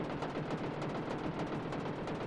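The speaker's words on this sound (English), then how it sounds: "Epic explosion." A big magic-ball explosion from the Super Famicom Dragon Quest 3 roars loud and close, a dense crackling, rumbling burst that churns on steadily without a break.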